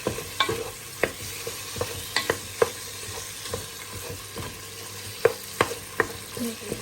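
Onion, corned beef and ground beef fry in a pan, a low continuous sizzle punctuated by repeated sharp scrapes and taps of a spatula stirring, close and clear with no talking.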